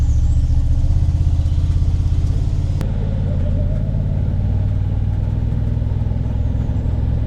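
A vehicle's engine drones as it drives up a hill: a steady, mid-pitched motor rumble, close and constant, alone with no talk.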